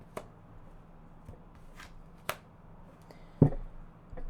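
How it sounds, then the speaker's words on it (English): Tarot cards being shuffled by hand, a few soft scattered riffling taps and slaps, close and quiet, with one sharper card snap near the end. "I'm going to shuffle, so just give me"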